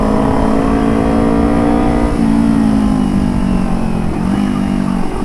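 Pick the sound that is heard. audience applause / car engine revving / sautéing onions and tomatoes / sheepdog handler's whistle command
car engine revving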